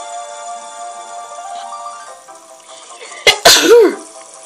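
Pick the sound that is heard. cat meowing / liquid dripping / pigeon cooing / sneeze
sneeze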